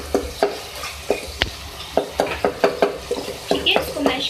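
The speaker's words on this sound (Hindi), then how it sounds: "अब इसको भी गला लें, टमाटर को भी। देख सकते हैं टमाटर सॉफ्ट हो चुके हैं। इसको हम मैश कर लेंगे इस तरीके से" A spoon mashes softened tomatoes in a pan for a beef keema and lauki dish, giving irregular close taps and scrapes against the metal over a low sizzle.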